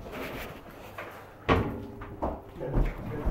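Someone kicking at a door in an abandoned house: several sharp thuds and bangs of wood, the loudest near the middle and end, with scuffling between and a faint voice in the background.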